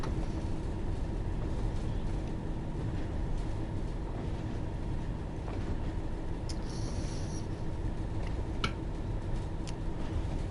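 A locomotive in Train Sim World 6 rumbles in a steady low engine drone, with faint rhythmic ticking and a few brief sharp clanks and squeals over the continuous noise.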